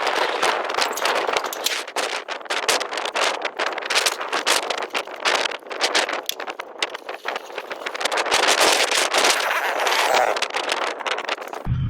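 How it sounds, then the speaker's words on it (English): Strong desert wind at 20 to 30 mph buffets the microphone in continuous rough, gusty roaring bursts, loud and close throughout. "down here where I'm parked right now, the wind's blowing 20-30 miles an hour"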